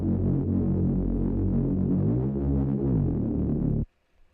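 A layered synth chord built in Harmor within FL Studio, sent through a Respace reverb, sustains with a gliding pitch shift midway and then stops abruptly, leaving a short, faint reverb tail.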